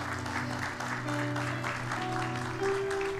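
A church congregation at a French-language service claps together in sustained, steady applause, close and fairly loud, with a low tonal hum beneath it.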